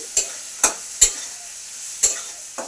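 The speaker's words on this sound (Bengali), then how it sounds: "ভালো করে আচ্ছা ভালো করে কষে নেবে বলছে" Masala being sautéed in a kadai, with a soft steady sizzle and five sharp spatula scrapes against the pan at an uneven rhythm, close and fairly quiet, without speech.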